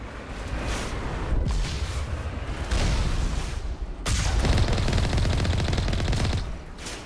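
Sustained gunfire in a shootout against the Colossus in Mass Effect, loud continuous rapid shots in bursts, with one sharp burst starting midway and running nearly to the end.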